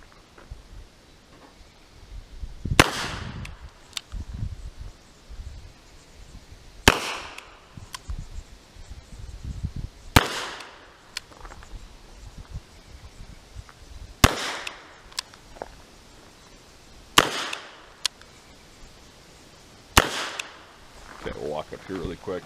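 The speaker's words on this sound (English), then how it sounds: "I'm going to throw the 6 rounds in. We're going to do a single action just to kind of show you the accuracy." Colt Model 1917 New Service revolver, a WW1 pistol in .45 ACP, fires six single-action rounds outdoors: sharp loud cracks spaced a few seconds apart, with someone talking quietly between shots.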